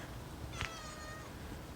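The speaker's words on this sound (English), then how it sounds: "Nice kitty cat." A cat meows a couple of times, a faint, fairly distant call at early morning before a road trip, alone with no talk.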